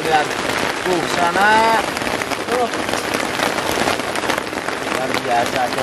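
Rain pours steadily onto a hillside shelter, a dense continuous hiss of drops on the roof and surroundings, with people talking over it throughout.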